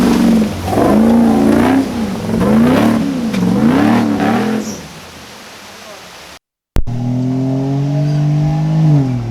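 A Barra-engined Toyota FJ45 LandCruiser revs up and down in repeated surging waves off-road in the Victorian High Country, loud and close, then drops away; after a brief cut a steady engine drone continues.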